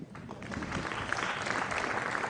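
An audience applauds at a school farewell gathering with steady, dense clapping that holds at an even level throughout.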